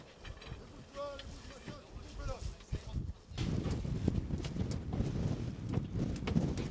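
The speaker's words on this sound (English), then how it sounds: "The wind shows no mercy at Hurd" Strong gusts buffet the microphone on subantarctic Heard Island, rising to a loud, continuous roar in the second half after a quieter start with some voices underneath.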